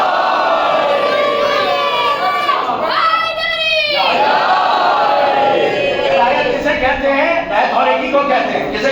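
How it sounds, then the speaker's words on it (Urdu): A large crowd at a majlis chants Haidari slogans in unison, loud and close, the voices swelling and falling in a steady rhythmic roar. "نعرے حیدری ہر وقت لگاتے رہیے"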